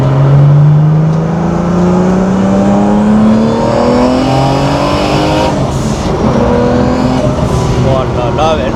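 A Porsche sports car tuned with about 100 extra horsepower accelerates from low revs, its engine note climbing steadily and loudly with rising whine throughout, close-up and continuous.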